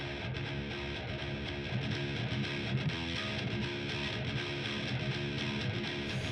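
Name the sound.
distorted metal guitar mix with smile-curve EQ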